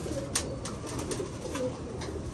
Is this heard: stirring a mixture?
no